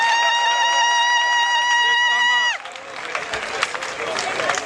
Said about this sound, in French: je vous demande d'applaudir encore et encore et encore